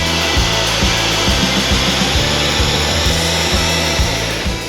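A ShopBot CNC machine running its automatic tool changer calibration routine with tool 5 in the spindle, giving a loud steady mechanical whine with repeated low thumping pulses throughout, no talk.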